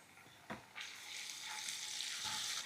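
Onion fries in a pan as a spoonful of ginger, garlic and coriander paste drops in, a brief thump followed by a rising, steady sizzle with stirring scrapes, close and moderately quiet, no talk.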